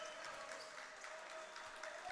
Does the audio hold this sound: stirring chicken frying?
no